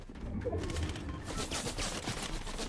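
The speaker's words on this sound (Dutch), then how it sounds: "Oh, schoten." Rapid gunfire from the video game Fortnite crackles in a dense, continuous burst that builds and thickens toward the end, with no talk over it.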